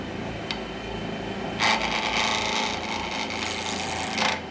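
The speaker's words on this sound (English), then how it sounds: "speed the lathe up a bit" A wood lathe spins an epoxy resin shaving brush handle made with rotten, spalted wood, giving a steady close whirring hiss with scraping swells of tool contact near the start and end.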